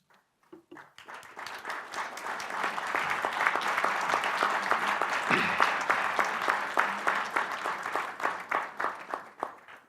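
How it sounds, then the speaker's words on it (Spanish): Audience at a book presentation gives calm applause after a moment of silence, rising quickly to a sustained wash of many clapping hands, then thinning into scattered individual claps at the end. "que este silencio se transforme en un aplauso sereno, aplauso de gratitud, de memoria y de compromiso."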